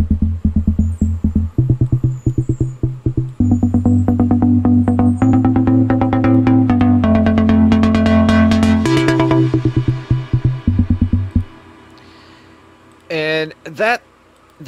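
Gated synth chord with its filter closed, chopped into rapid rhythmic pulses in FL Studio, loud and steady for about eleven seconds before stopping, followed by brief faint noise bursts.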